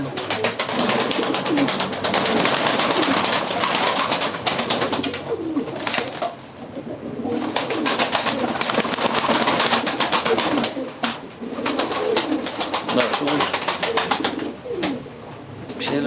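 Smoky mirrored Ankara tumbler pigeons coo steadily and close, with repeated soft throaty calls in dense overlapping rhythm and a brief lull partway through.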